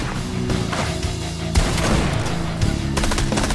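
Rapid gunfire in Fortnite, dense bursts of automatic shots coming loud and close with a few heavier thumps, continuous for several seconds and free of talk.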